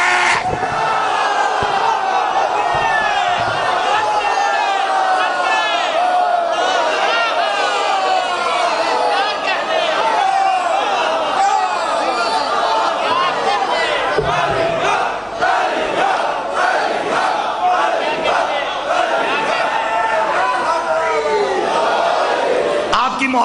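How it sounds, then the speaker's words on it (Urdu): A large gathering at a Muharram majlis chants the religious slogan Ali Haq in unison, a loud rhythmic roar of many voices sustained from start to finish. "یہ نعرہ جو ہے نا علی حق، اس نعرے کا ایک خاص ٹیمپو ہے"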